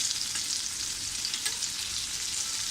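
Rava-coated potato slices fry in a pan with a steady, close sizzle and crackle of hot oil, an even hiss running throughout with no voices.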